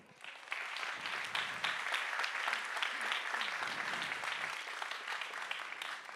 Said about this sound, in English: Great applause for Achim.